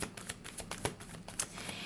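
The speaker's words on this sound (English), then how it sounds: "sometimes as I shuffle, cards will flip over" Tarot cards being shuffled by hand, giving quick papery riffles and soft flicks in short irregular bursts, close and fairly quiet with no voices.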